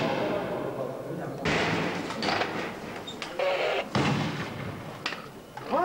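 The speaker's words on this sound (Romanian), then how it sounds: "Auziți cum se trage cu petarde și cu gaze lacrimogene?" Firecrackers and tear gas canisters are fired during the 1991 miners' assault on the television station in Bucharest, heard as a series of dull thumps and bangs in a noisy outdoor crowd, with a voice talking over them.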